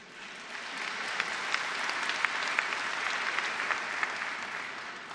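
Sustained applause from a large audience during a plenary speech at the St. Petersburg International Economic Forum, a dense steady wash of many hands clapping with no talk over it.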